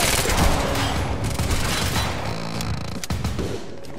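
Rapid gunfire from the video game Quantum Break, a dense loud fusillade of overlapping shots and booms filling the whole stretch with sharp transients throughout.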